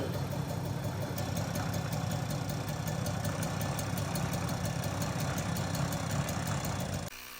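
A 1977 Sachs Balboa motorcycle engine runs close by at a steady, even idle with a fast, regular beat, then drops off abruptly just before the end.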